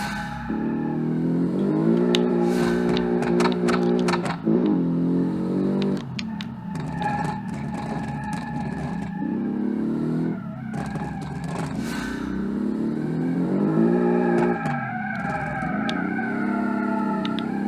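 Turbocharged rally-fighter-style coupe driven in the Automation car game, its engine revving and rising in pitch through repeated acceleration runs, with brief drops between gear or throttle changes, loud and continuous with no talk.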